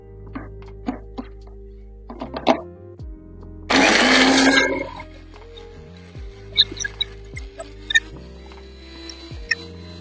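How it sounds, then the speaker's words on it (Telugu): A kitchen mixer grinder whirs loudly for about a second and a half as it grinds sesame seeds with salt into powder, with scattered clicks and taps before and after. "మళ్ళీ మిక్సీ పట్టేయాలి."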